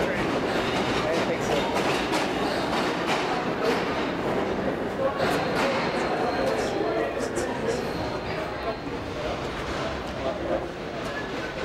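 A train runs along a Manhattan rail line with a steady rumble and faint clicking of wheels over track joints, fairly close, while people talk over it.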